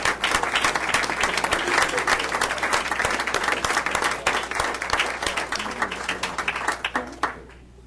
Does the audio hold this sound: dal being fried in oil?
no